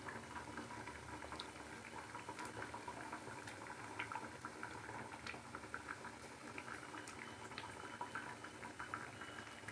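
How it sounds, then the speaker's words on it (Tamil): Egg curry gravy bubbling in a pot, a continuous soft simmering burble with small pops and patters, steady and close, with no voices. "நல்லா கொதிக்கட்டும்."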